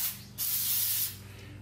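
Brake cleaner hisses from an aerosol can onto the belt, roller and pulley assembly of a Vespa GTV-300 scooter in a steady close spray with short pauses, over a faint low hum and no talking.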